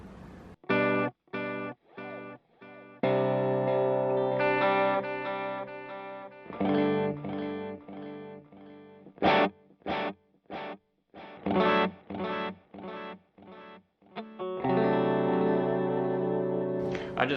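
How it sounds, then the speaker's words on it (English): An electric guitar runs through a pedalboard with a delay effect on one side that widens the sound, playing distorted chords and stabs in bursts with brief silences between, moderately loud and alone. "I feel like it adds some sort of delay on one side to make it sound a little bit wider."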